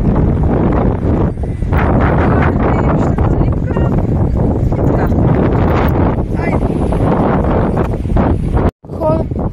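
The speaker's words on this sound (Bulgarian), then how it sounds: "Много силен вятър." Heavy wind buffets the microphone in a constant loud roar, with a voice talking underneath and a brief dropout near the end.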